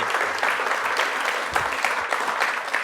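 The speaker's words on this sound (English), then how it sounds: "what are we clapping for?" An audience at a Keir Starmer political speech breaks into sustained clapping, a dense, even patter of many hands that fills the moment without letup.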